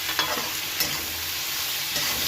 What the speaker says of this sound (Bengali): পেঁয়াজের মধ্যে আন্দাজ মতো নমক দিলাম যাতে পেঁয়াজটা খুব তাড়াতাড়ি লাল হয়ে যায় একটু নাড়াচাড়া করে নিলাম